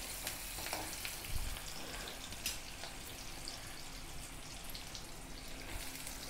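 Onions frying in a pan for chicken curry: a continuous faint sizzle and crackle with a few brief stirring scrapes, close and steady, no voices.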